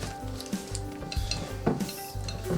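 Jalapeno popper dip is stirred by hand in a bowl, giving soft, irregular scraping and thick squelching strokes up close, with occasional light clinks of the utensil and no talk.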